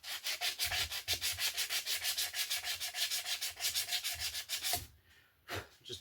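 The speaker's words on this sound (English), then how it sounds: "Just needs a little like 5-minute sanding." A wooden board, router-cut with burn marks and tear-out, is sanded by hand, a close rhythmic rasping in fast even back-and-forth strokes that pauses briefly near the end before a few more strokes.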